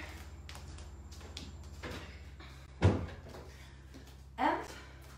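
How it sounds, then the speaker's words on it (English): A door closed indoors during a home workout: a single solid thump near the middle, then a second softer knock, over quiet room noise. "I'm gonna close this door."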